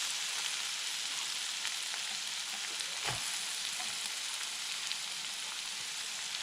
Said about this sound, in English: we have some butter going in the pan, and let's add in our veggies. And we're gonna saute these until they're just a little browned,